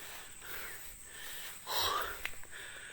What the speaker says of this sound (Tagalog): Hingal mga kabukid.